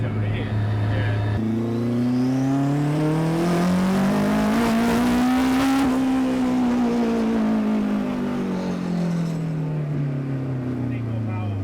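A turbocharged Honda K20 engine in a Mk2 Ford Escort revs hard near full throttle on a dyno, the pitch climbing steadily to a peak then falling away, loud and close.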